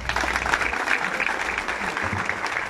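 Steady applause from the crowd at a political swearing-in event in Veracruz, Mexico, honouring a representative of the orange party; dense, continuous clapping at moderate volume.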